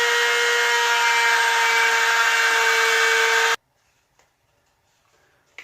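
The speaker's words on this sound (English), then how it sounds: "I'm going to end up dremeling a little bit more in the front" High-pitched rotary tool grinds steadily and loudly for about three and a half seconds while shaping a mounted coyote form, then cuts off abruptly, leaving near silence with a few faint handling knocks.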